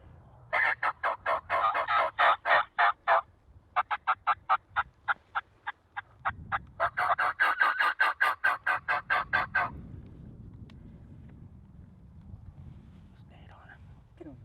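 Wild turkeys gobble over and over in a snowy field, in loud, rapid rattling bursts, two long runs split by a short pause, followed by soft whispering and low rustling.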